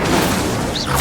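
An Incendio fire spell cast in Hogwarts Legacy, a dense, loud, roaring burst of flame and crackling impact filling the whole second, with no talk.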